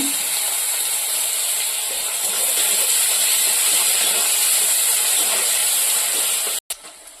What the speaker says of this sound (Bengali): পেঁয়াজ কুচিটা দিয়ে একটু লাল লাল করে ভেজে নেব